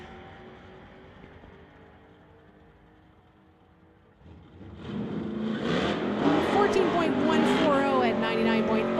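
Infiniti and Ford street cars launch in a drag race, a low engine drone building abruptly into loud roaring acceleration that stays strong through the run, with a voice heard briefly.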